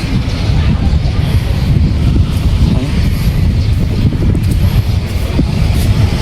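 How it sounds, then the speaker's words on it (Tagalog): Strong wind gusting on a third-floor level near a cemetery, a loud, constant low roar buffeting the microphone for the whole stretch, with no clear speech. "Masyadong mahangin dito guys"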